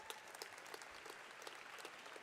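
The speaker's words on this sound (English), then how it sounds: "Let's give them a round of applause." An audience at a Michigan tech conference gives the event organizers a round of applause: quiet, steady clapping from many hands, heard from a distance and continuing throughout.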